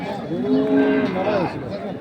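A cow at a cattle fair moos loudly and close by in one long, drawn-out call, with a rising and falling pitch and no talking over it.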